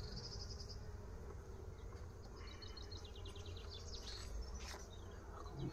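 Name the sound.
bees at a beehive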